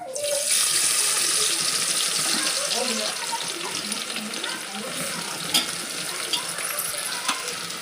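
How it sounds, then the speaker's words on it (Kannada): Sliced onions sizzling in hot oil for a green chilli masala pulao give a steady, close hiss with occasional sharp pops, continuous and fairly loud throughout. "ಎಣ್ಣೆ ಕಾದತ್ ನೋಡ್ರಿ ಈಗ ಉಳ್ಳಾಗಡ್ಡೆ ಹಾಕೋತೀನಿ"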